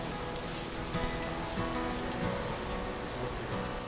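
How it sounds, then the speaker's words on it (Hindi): Heavy rain falling during an indoor talk, a dense steady hiss of rain on surfaces with scattered droplet patter, continuous and moderately loud throughout. "तेज़ बारिश हो रही है"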